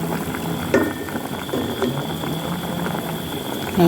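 Mushroom curry with grilled beef simmering in a pot, a steady bubbling boil with soft pops and an occasional clink of a utensil against the pot.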